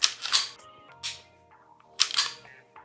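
A Springfield XD 9 pistol is dry-fired, its trigger giving a few sharp, close mechanical clicks, with the loudest snaps near the start and again around two seconds in, alone with no talk.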